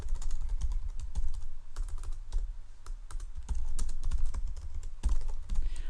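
Rapid keystrokes on a computer keyboard, close and clear, forming a continuous irregular patter of clicks with short pauses and no talking.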